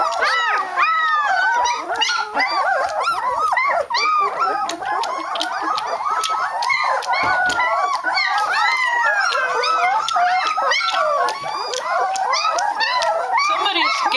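Three-week-old White Shepherd puppies whine and howl in a constant overlapping chorus of high, wavering cries, close by, with a person talking now and then underneath.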